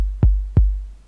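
Two clean synthesized kick drum hits from a Reaktor plugin, undistorted, each a deep booming thump with a quick pitch drop, spaced about a third of a second apart and heard alone.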